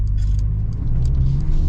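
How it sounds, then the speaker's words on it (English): A Mercedes GLB 250 with a turbocharged 2-liter four-cylinder accelerates, heard from inside as a loud, steady low engine drone with road rumble. "There's a little bit of turbo lag. It's kind of expected with a 2-liter 4-cylinder."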